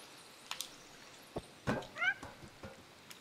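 Cat meows in the video game Stray, a couple of short close calls rising in pitch, set among light soft footsteps and small taps, with no talking.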